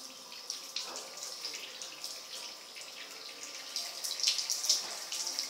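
Water runs from a garden hose, a steady close splashing stream that swells slightly louder toward the end, with no talk.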